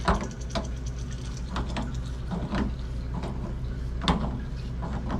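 Metallic clicks and scraping of a wrench tightening a water heater drain valve, a few irregular ratcheting taps over a steady low hum, close by.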